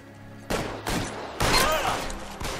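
Exchange of gunfire in the video game L.A. Noire, with several sharp bursts of shots cracking out in quick succession against a steady background hum.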